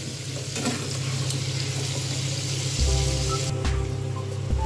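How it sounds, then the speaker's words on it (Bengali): Potatoes with turmeric and salt frying in oil, a close continuous sizzle with soft stirring, a low hum underneath and a brief clatter near the end, no voices. "আলুগুলোকে একটু ভালো করে বেশ লাল লাল করে একটু ভেজে নিতে হবে"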